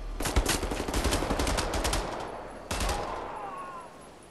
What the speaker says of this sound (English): I need to do a headshot with one of these pistols